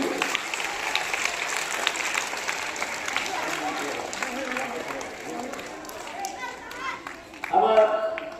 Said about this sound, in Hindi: जोरदार तालियां इन दोनों के लिए।